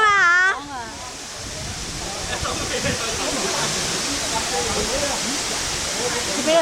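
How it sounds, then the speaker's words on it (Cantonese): A roaring 30-metre waterfall at Wutong Zhai fills the scene with a loud, continuous broadband rush. Excited voices call out briefly at the start, then the steady roar continues beneath quieter speech. "真係呢個瀑布有幾多米啊？30米喎，長瀑布啊"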